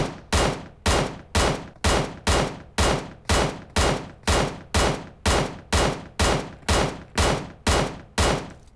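Loud, regular single shots from a QBU88 marksman rifle fitted with a compensator in PUBG Mobile, sixteen evenly spaced reports roughly half a second apart, each with a short decaying tail, no talk.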